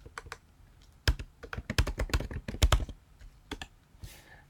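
Keyboard typing while entering a property listing on a computer, a few quick keystrokes followed by a dense burst of clicks, close and fairly quiet with no talking.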